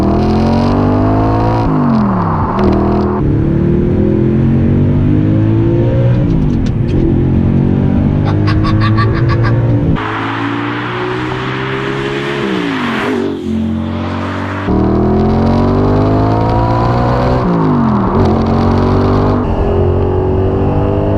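A 10-year-old Audi R8 V8 with a Milltek exhaust drives hard through repeated loud revving climbs and gear changes, the engine note sweeping up and dropping with each shift, close and continuous throughout.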